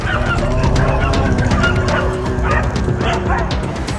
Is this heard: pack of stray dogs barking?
yes